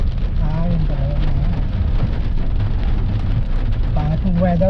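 Steady rain hitting surfaces around a sedan on a rough road in Lobo, Batangas, a dense constant hiss with people talking over it.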